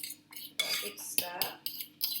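Egg mixture with grated cheese and chopped ham gets a vigorous stir in a bowl, utensil scraping and clinking against the sides in several quick, close bursts, with no talking.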